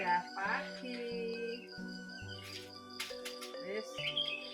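Birds call in the early morning, a quick series of bright chirps and whistles that come close and clear, with no one talking over them.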